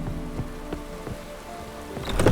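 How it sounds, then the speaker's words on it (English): Rainfall in The Witcher 3 open-world game, a steady patter of drops hitting surfaces beneath soft background music, swelling louder toward the end with no talking. "Looks like rain."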